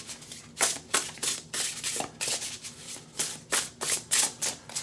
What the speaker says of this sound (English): So we're going to shuffle.